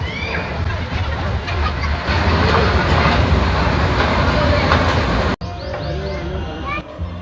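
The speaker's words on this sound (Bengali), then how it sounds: "এখানে ট্রেন রাইড রয়েছে" A children's train ride at the Bangladesh National Zoo in Mirpur rumbles and rattles loudly up close, a continuous rolling clatter that drops away sharply near the end, with voices talking over it.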